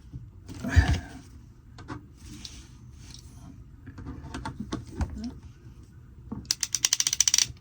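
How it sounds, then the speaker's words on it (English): Ratchet crimping tool clicks and clacks while crimping a valve fitting onto PEX for a Dometic 310 toilet, scattered mechanical snaps giving way to a fast run of close, sharp ratcheting clicks. "Take your crimping tool."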